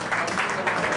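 The audience at the Miss Carnevale Veneto beauty pageant in Ceggia applauds briefly, a dense clatter of clapping with a voice faintly underneath.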